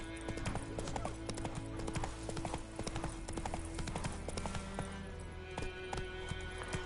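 A horse galloping in The Witcher 3 on PS5, with rapid rhythmic hoof clip-clop throughout over a steady game background, close and continuous.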